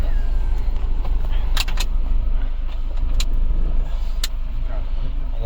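A steady car engine rumbles close by under street noise, with a few sharp clicks and faint voices in the background.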